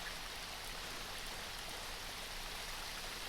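Flowing water in the blocky survival game RLCraft, a modded Minecraft, makes a steady, even rush and trickle that holds without pause, soft and continuous with no voices.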